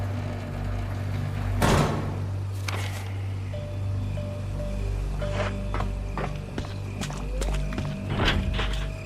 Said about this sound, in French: Une grosse porte de fer, impossible de l'ouvrir.